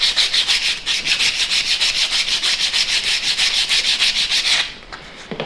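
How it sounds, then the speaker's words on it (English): Sandpaper held in the hand rubs back and forth along a wooden dowel as it turns, a steady run of rhythmic scratchy strokes, close and loud, stopping near the end with no talking. "I'm sanding while rotating, so I'm getting all edges of the dowel"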